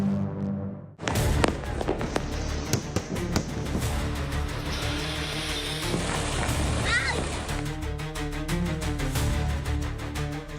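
Diwali firecrackers and fireworks burst at night in the capital, a dense run of sharp cracks and pops over a continuous crackling roar, loud and layered throughout.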